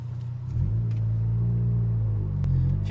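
Deep, steady exhaust rumble from a Volkswagen MK7 GTI with a straight pipe exhaust, idling close by with a slight rise in revs partway through, loud and continuous without talk.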